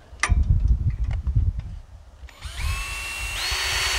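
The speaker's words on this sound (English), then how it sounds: "I start with a pilot hole before I actually do the quarter inch hole." A few clunks and knocks, then a power drill whirs up and runs steadily, rising in pitch as it bores a pilot hole while installing a tractor canopy on a ROPS, close by.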